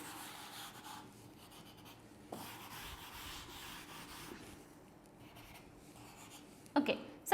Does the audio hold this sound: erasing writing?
yes